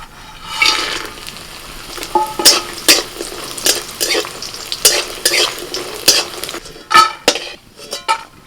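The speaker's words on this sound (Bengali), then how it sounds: "প্রথমে ডালের বড়িটা ভেজে নেবো" Lentil dumplings (dal bori) frying in hot oil in a pan, a steady crackle with repeated scraping and stirring clatters of a utensil against the pan, close and fairly loud.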